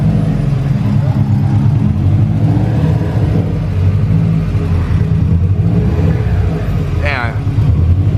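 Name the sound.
Subaru WRX STI car driving in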